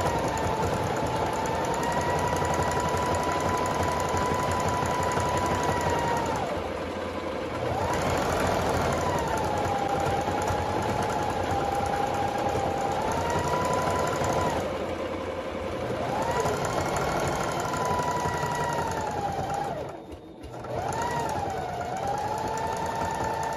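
A sewing machine stitching a flat rug runs in a steady, continuous hum with a motor whine, pausing briefly three times before starting up again, close and loud with no talk.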